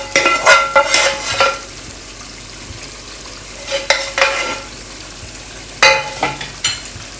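Fried onions go into a desi chicken karahi, setting off loud bursts of sizzling and clattering spoon strokes in three clusters, with a quieter steady fry between them and no speech.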